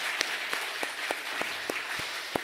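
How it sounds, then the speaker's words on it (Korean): A church congregation during a Sunday worship service claps steadily, with sharp individual claps standing out in a loose, even rhythm; brief and moderately loud. "하나님께 영광의 박수 올리겠습니다."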